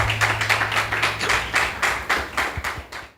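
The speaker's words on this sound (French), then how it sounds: "Sous vos applaudissements" Audience applause at a televised Beninese event, a quick rhythmic burst of close, fairly loud clapping from a small group, steady and even before tapering off at the end.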